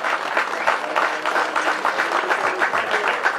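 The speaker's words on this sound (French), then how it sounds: "Je pense que vous pouvez les applaudir, vous avez applaudi largement déjà." A crowd at a French potato festival applauds in a short, moderately loud burst of mixed clapping that pulses gently, with faint murmuring beneath.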